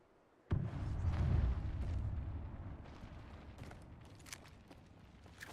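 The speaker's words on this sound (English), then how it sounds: "Thermite grenade out." A thermite grenade bursts in a shooter game with a sudden loud boom, followed by a roaring, crackling burn that slowly fades over several seconds, with scattered small pops near the end.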